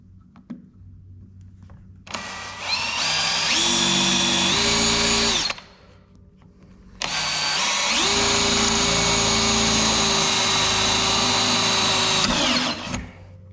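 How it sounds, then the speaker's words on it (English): Two long bursts of a power drill boring holes into metal on a Walker mower, bit sprayed with WD-40, the motor whining steadily with pitch shifts as the bit bites, separated by a short pause. "once all the holes are drilled, it should make us a nice slot"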